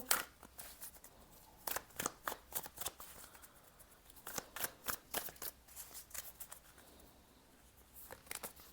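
A tarot card deck being shuffled by hand, a run of crisp riffling bursts and soft flapping card slides in irregular rhythm, close and moderately quiet with no talking.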